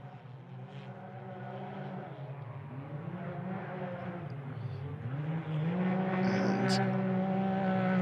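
A Can-Am rally raid side-by-side at a Portugal prologue stage passes with a rising, droning engine that grows louder toward the end, under a commentator's continuous talk.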